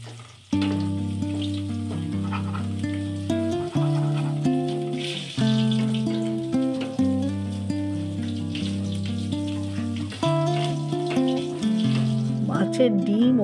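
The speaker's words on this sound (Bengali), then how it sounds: "কিছুক্ষণ ভেজে নিয়ে একে একে সব মশলাপাতি যেমন পরিমাণ মতো নুন, হলুদ গুঁড়ো ও লঙ্কা গুঁড়ো দিয়ে ভালো করে ভেজে নেব।" Bitter gourd and fish roe fry in a pan with salt, turmeric and chilli powder, a continuous close sizzle under sustained musical tones.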